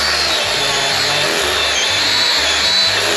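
A cordless 20-volt max chainsaw with a dull chain cuts continuously on a mountain trail, a loud, steady, close-up buzzing grind with no break.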